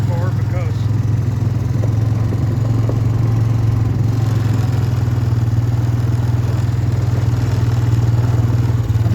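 A 2007 Honda Recon ES ATV with a 220cc engine runs steadily while riding around a farm field perimeter, a loud, constant low engine hum with rattling, close by throughout.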